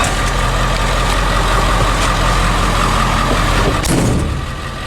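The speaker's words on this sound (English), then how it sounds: "So we're gonna go rip the truck a little bit down up and down the streets here." A 1976 Ford F600 truck with a swapped 7.3 Powerstroke diesel engine rumbles steadily and loudly while driving, with a constant low drone and no speech.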